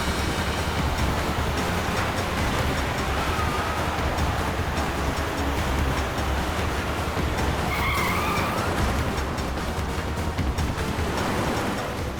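A car driven fast and recklessly in a TV crime drama chase, with loud, sustained tyre skidding and roaring engine noise filling the scene without pause.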